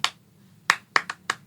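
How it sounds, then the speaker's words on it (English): Handclaps from a song, sharp and dry, one alone and then a quick irregular run of four or five, with quiet gaps between them and no voices. "That clap."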